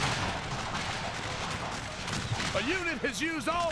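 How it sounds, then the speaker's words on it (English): Musket volleys crackle in bursts of gunfire during a large American Civil War battle between Union and Confederate lines in Total War Shogun 2, with someone talking over the shooting. "Another nice volley to the Confederate line here."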